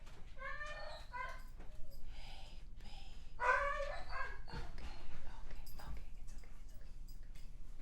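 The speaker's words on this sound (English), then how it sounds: "I don't know if y'all can hear this dog drama." Dogs whine, whimper and yelp in an excited indoor squabble, with several high cries and short barks over a low background hum.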